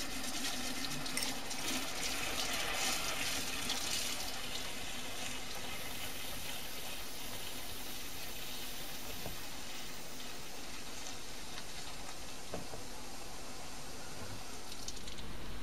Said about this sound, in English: The dibenzyl acetone is then filtered off and washed with some ethanol.